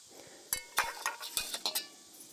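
Light, rigid skillet from an Alocs CW-105 alcohol stove backpacking cookset being handled, giving a quick series of small metallic clinks and taps, close and fairly soft.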